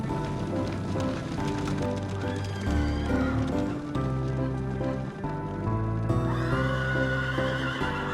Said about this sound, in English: wild horses that find shelter in and around the rocks make this place even more evocative, especially when they suddenly gallop away